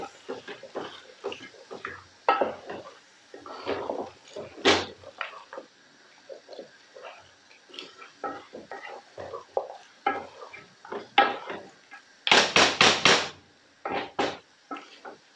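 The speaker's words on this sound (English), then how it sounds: "Mix the mutton in." Mutton gets stirred into a pot of biryani in a string of irregular scrapes and thumps, with a spoon knocking the pot now and then and a few louder clatters near the end.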